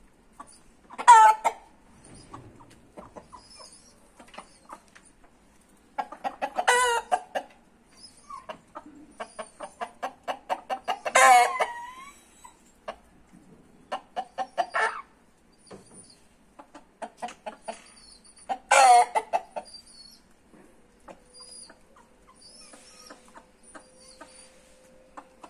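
Asil rooster and hens in a yard, clucking, with the rooster calling the others in a few loud bursts of calls separated by quieter clucks and pauses, fairly close and with no talk.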